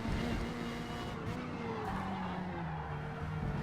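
Formula Mazda race car spinning out at Yas Marina Circuit in Forza Motorsport, fairly quiet engine drone with tire skidding and squeal sliding in pitch across the whole stretch.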